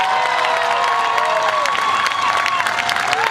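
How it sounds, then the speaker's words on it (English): A high school graduation crowd applauds and cheers for the class of 2015, with dense clapping, whoops and shouts that hold loud and continuous throughout. "Let's give a round of applause for the class of 2015."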